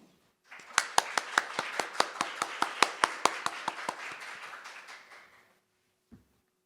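Modest audience applause welcomes a Ministry of Environment speaker at an international ecosystem services symposium held by Korea's National Institute of Ecology. Steady, evenly spaced claps ring out in a quiet hall for about five seconds, then stop.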